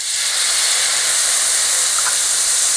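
Tomatoes hit a hot pan of lightly roasted onions while cooking vegetable chowmein, setting off a loud, steady sizzling hiss that holds evenly the whole time.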